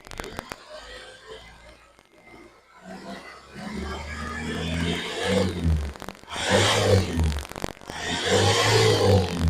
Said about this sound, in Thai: เดี๋ยวเราจะลองเร่งเครื่องยนต์ดูครับ